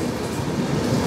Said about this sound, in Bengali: ওই দেখো সামনে ট্রেনটা ঘুরছে কেমন